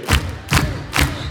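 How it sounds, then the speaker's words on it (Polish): Three steady, rhythmic group handclaps ring out from a concert audience raising their hands overhead at a performance in Energylandia, each one loud and punchy with a light crowd murmur underneath. "Wszystkie ręce klaszczą w górze."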